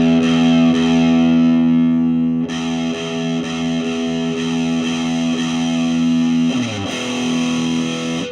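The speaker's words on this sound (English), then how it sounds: "your amp's going to get louder, and what it's also going to do is it's going to start to distort your amp." An electric guitar through a guitar amp grows distorted as the gain knob is turned up, a sustained buzzing, overdriven chord ringing loudly with a few restrikes and no talking.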